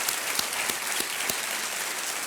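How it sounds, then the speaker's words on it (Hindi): A studio audience on a TV quiz show breaks into sustained, dense applause, a loud, even roar of clapping with a few sharper claps standing out. "एक बार फिर तालियों के साथ अभिनंदन"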